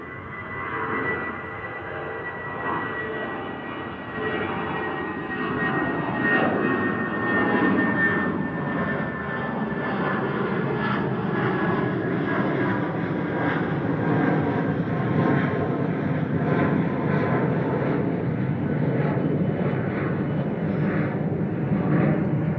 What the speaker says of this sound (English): Eurowings 9345 to Dusseldorf, you're departing now, A319 Classic DAGWL